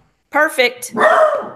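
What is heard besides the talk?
dog barking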